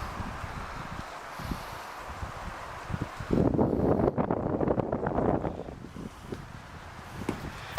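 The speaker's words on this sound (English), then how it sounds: "Pretty windy through the tunnel." Steady wind rushes through the abandoned Hell's Gate Tunnel and buffets the microphone, swelling into a louder gusty roar midway before settling back to a constant blowing hiss.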